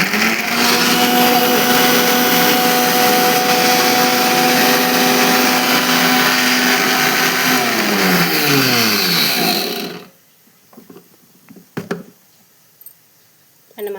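A kitchen mixer grinder whirs loudly at high speed as it grinds coriander powder and coconut powder into masala, then winds down and stops, leaving faint clinks and handling noises.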